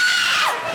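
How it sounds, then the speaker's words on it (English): A woman lets out a short, loud, high-pitched scream meant to scare someone, sharp at the start and trailing off within a second, with no talk over it. "Are you gonna scream?"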